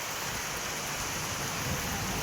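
Steady morning rain falls in a village during an unseasonal spring shower, an even, close, unbroken hiss with no voices.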